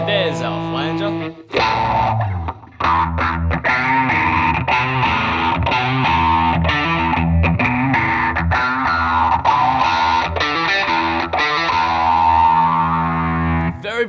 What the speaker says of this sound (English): there's our flanger